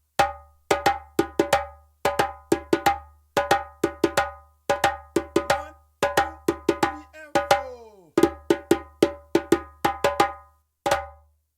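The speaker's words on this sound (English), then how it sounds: "That's the first accompaniment of DIANSA." Djembe ensemble playing the first accompaniment of the West African rhythm Diansa: sharp, bright hand strikes in a steady repeating pattern with deep bass tones, played in clustered groups and ending with a few closing hits, with no talk over it.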